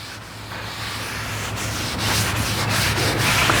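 Oil being wiped across the steel top of a Camp Chef Gridiron 36 griddle, a steady close rubbing swish that repeats in strokes and grows slightly louder toward the end, with no talk.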